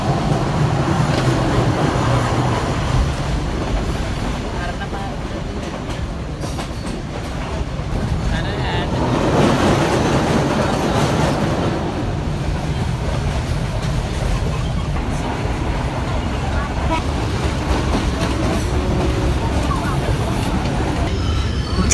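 A passenger train rolls toward Nawalapitiya in Sri Lanka with a steady rumble and a rhythmic clickety-clack of wheels over the rail joints. The noise stays loud and continuous throughout, with voices talking faintly beneath it.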